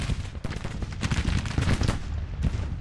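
Rapid gunfire and artillery in Grand Tactician, a Civil War strategy game: dense crackling volleys and sharp reports in irregular bursts, loud and continuous with no talk.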